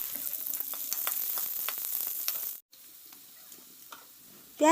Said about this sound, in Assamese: ইফালে মই কেৰাহীখন বহাই মিঠাতেল অলপ দি পিঁয়াজ দি ভাজি আছোঁ।